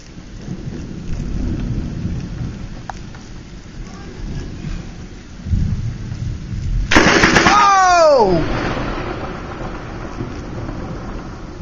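Heavy thunderstorm with water pouring down a road: steady loud rain, then a sudden sharp, close thunder crack that rumbles and fades, with the downpour continuing after.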